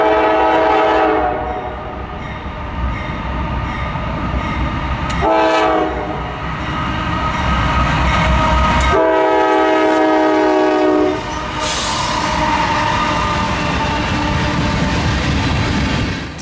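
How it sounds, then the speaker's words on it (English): An eastbound oil train descends under two AC-44 C6M locomotives, their dynamic brakes howling in a loud, sustained whine with layered tones, joined by horn blasts and rumbling railcars passing close by. "The dynamic brakes are howling as AC-44 C6Ms 4234 and 4268 work to keep their heavy train at bay"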